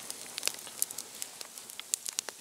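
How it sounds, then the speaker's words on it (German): Venison medallions sizzle on a grill over a campfire at night, a faint steady hiss broken by scattered small crackles and pops. "die Hirschmedaillons haben wir jetzt gerade draufgelegt"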